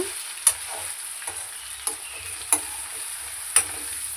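Potato pieces stirred in a hot pan of sizzling masala curry, a steady fry hiss broken by a handful of sharp spoon scrapes and clicks against the pan, close and alone with no voices.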